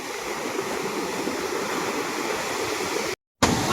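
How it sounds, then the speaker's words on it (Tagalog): Large sea waves crash along a rough coast in bad weather where fishing boats come in, making a continuous loud roaring wash with no voices. The sound drops out briefly near the end. "Oh, ayan pa, oh. Naglalaki ng alon,"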